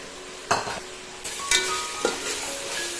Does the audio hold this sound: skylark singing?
no